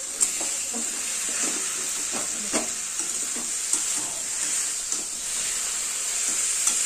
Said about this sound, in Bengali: এর মধ্যে দিয়ে এবার আবার এর সাথে ভালো করে নেড়ে চেড়ে ভাজা ভাজা করতে হবে